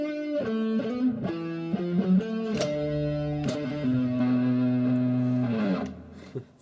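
Electric guitar playing a fast, note-dense lick from an articulation lesson, with quick distorted runs and bends that settle into a long held note before fading out, close and loud, with no talking.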